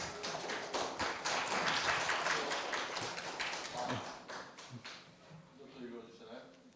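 An audience at a Korea University campus startup fair applauds an award winner at a prize ceremony: a dense burst of many hands clapping that peaks early, then thins into scattered claps with faint voices underneath.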